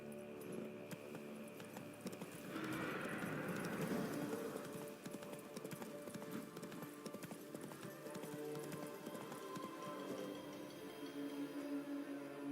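Hooves from a horse in the video game The Witcher 3 clip-clop in a steady rhythm, moderately near, and continue throughout with game ambience underneath.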